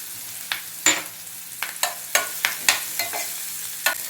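Onions frying with crushed garlic and coriander seeds, a steady sizzle broken by repeated scrapes and clatters of stirring, close and loud with no voices.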